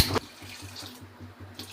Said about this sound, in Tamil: அளவாக தண்ணி ஊற்றி